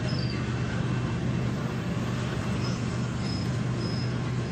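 A GE diesel locomotive engine chugs behind the listener, a steady low rumbling drone that holds evenly throughout with no talk.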